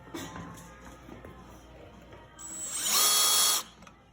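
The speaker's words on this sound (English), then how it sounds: "I'm going to drill holes in this so that we can weld it from the back" An electric drill whirs briefly at low level, then bores holes into metal with a loud, high-pitched grinding whine for about a second before stopping.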